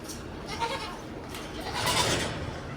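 A goat on a farm gives drawn-out bleats, one softer call followed by a louder, nearer one, over a faint farmyard background.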